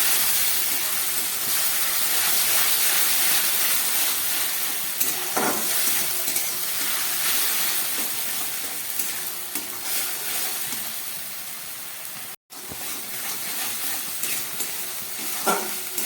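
Onion paste sizzles and fries steadily in a hot pan for chana masala, a continuous close hiss with occasional stirring scrapes and one sudden brief break in the sound.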